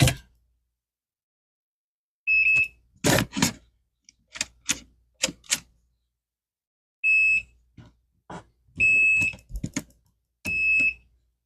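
A continuity tester beeps while probing the rails of a Kato N scale Unitrack double crossover. Four short, high, steady tones come at uneven intervals, mixed with sharp clicks and taps from the probes on the track.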